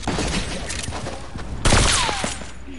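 Video game gunfire crackles as a dense volley of shots, with a louder burst midway and a falling whine after it, heard close and continuous over game noise.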